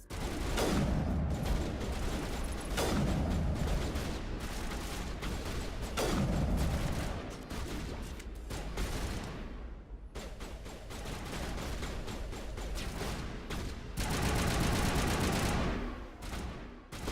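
Gunfire in the video game Mass Effect crackles in dense bursts and rapid volleys, nearly continuous with short lulls, loud and busy with mechanical clatter.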